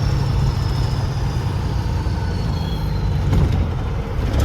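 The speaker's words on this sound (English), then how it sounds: "truck makes some noise." A truck's diesel engine rumbles steadily from the cab while driving through a four-way stop beside a barrier, loud and continuous with a low droning roar and faint rattles throughout.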